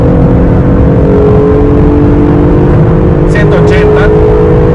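Acura NSX engine droning under strong acceleration, a loud steady whine with rising harmonics, while someone speaks briefly over it.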